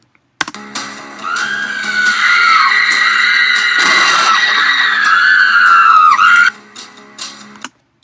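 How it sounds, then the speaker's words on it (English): A loud, sustained scream used as a sound effect for video editing rises and wavers for several seconds, then cuts off abruptly, leaving a brief faint tail. "We'll put the screaming by the bloody handprints."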